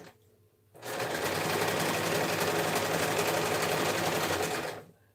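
Sewing machine running steadily for about four seconds while stitching a dress form cover, a loud continuous mechanical whir that starts and stops abruptly with no talk.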